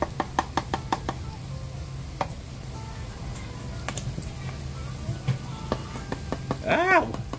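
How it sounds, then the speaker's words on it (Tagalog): Chicken à la king sauce sizzles and bubbles in a pan as Nestlé cream goes in, with repeated sharp knocks and scrapes of a spoon against the cookware over steady frying hiss. "lagyan na natin yung ating Nestle cream"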